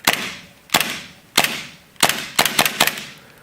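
A KJW 1911 gas blowback airsoft pistol fires empty on propane, a series of about seven sharp, close cracks with the slide snapping back, first spaced out and then coming in a quicker cluster.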